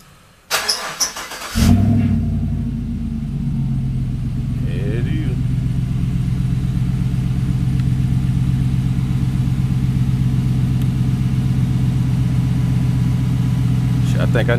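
A large black vehicle cranks over and fires up in the snow, a brief starter whir giving way to a loud, steady engine rumble that runs on near and continuous with small swells.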